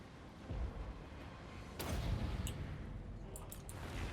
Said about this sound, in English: they're firing cannons at me too